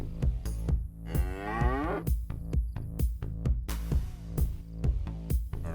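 A cow in the video game DayZ lets out a single long, wavering moo, loud and close, riding over steady rhythmic background music with sharp percussive beats.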